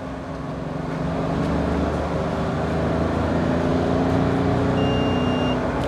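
A Mahindra Bolero Neo SUV's mHawk100 engine drones steadily while driving, with road rumble underneath and a faint high tone near the end; no talking.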